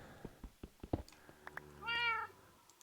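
Cat in the Minecraft video game, meowing: a few soft taps lead into one clear, drawn-out meow near the end, faint and alone with no talking.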